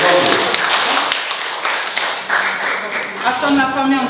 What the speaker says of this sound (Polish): Ogromne brawa, moi kochani.